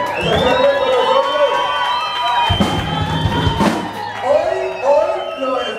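A live concert crowd cheers, whoops and shouts for a new panelist named Steven, rowdy and loud, with excited voices rising and falling over ringing tonal sounds through the stretch.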